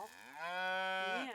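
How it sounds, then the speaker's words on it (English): Cattle low outside a factory door, one long, loud, close moo with a rising pitch at the end, heard alone without talk. "Just outside the door of the factory are Jen Winter's cattle"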